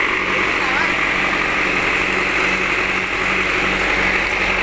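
A 50 kVA diesel generator runs at a village celebration in Bondowoso, producing a loud, steady engine drone with a constant hum, heard up close and unbroken.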